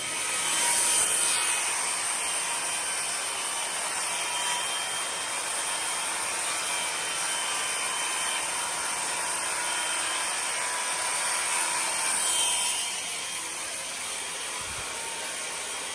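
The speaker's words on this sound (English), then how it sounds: "I'm actually just gonna cut them with the damn router" A router cuts wood for the port of a sixth-order speaker enclosure, giving a steady, loud, high-pitched whine with broadband grinding that runs continuously for about thirteen seconds before easing slightly.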